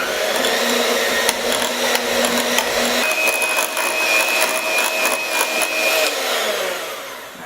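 Paczki dough ingredients, with a teaspoon of salt just added, being mixed together by a machine, probably a stand mixer: a steady motorized whir that runs loud and continuous throughout, its tone shifting slightly partway through, with no talking.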